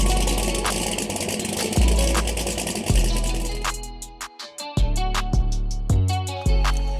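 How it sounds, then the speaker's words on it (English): A 1200-horsepower turbocharged Trans Am with a 91mm turbo and a 388-cubic-inch LS on Holley EFI rumbles loudly up close, its deep note rising and falling, then breaking into sharp, rhythmic pops and stutters. "1200 horsepower turbo Trans Am, 91mm turbo, 388 cubic inch LS on HOLLEY EFI, built 400, built rear end"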